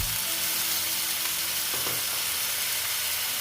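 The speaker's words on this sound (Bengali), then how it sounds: "দিয়ে আবার আমি এটার সঙ্গে ভালো মতো কষিয়ে নেব।" Spices and masala for ghugni fry in a pan with water added, giving a steady, close sizzle and hiss with a brief stirring scrape partway through.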